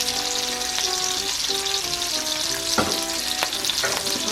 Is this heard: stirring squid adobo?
yes